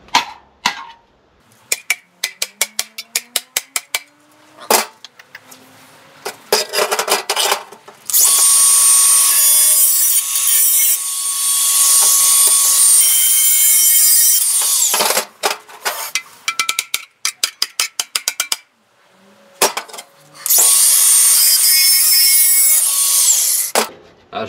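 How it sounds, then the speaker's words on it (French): An angle grinder works a wooden tortoise sculpture in loud bursts, some short and stuttering, others long steady grinds of several seconds, with brief quiet gaps between passes. "je repasse petit coup de meuleuse"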